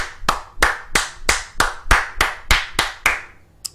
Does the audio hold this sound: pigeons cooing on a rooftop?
no